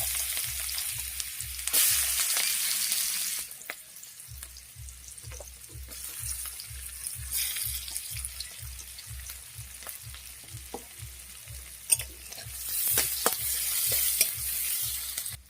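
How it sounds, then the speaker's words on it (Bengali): Onions sizzle steadily in leftover oil from frying fish, close up, with a regular rhythm of stirring and scraping in the pan and no talking. "মাছ ভাজার তেলে পেঁয়াজ দিয়ে দেবো।"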